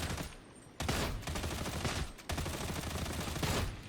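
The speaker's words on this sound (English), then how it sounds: "as long as we're shooting it in the back" Rapid bursts of gunfire from Warhammer 40,000: Darktide, a first-person game, firing at enemies from behind; sustained loud volleys with brief gaps, close and dense, with no talk.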